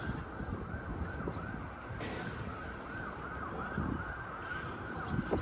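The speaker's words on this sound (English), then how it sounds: "sirens are very common in New York. Ambulance, firefighter, police" An emergency vehicle siren wails along a busy New York street at Coney Island, Brooklyn, steady and fairly distant, with its rising and falling tone running the whole time over low traffic rumble and wind, with no one talking.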